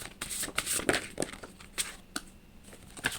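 Tarot-style reading cards being shuffled by hand, a run of crisp riffling bursts and soft slaps close up, with no talking.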